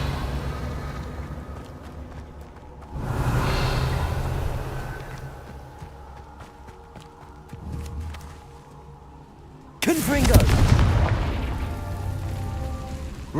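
A Confringo blasting spell in Hogwarts Legacy, two heavy booming explosions several seconds apart, the second sharper and louder, over a low rumbling game background.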